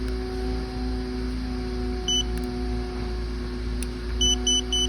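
A Bio Quantum water filter's new leak block sensor gives a short series of small electronic beeps, soft and high-pitched, over a steady low hum, with no speech.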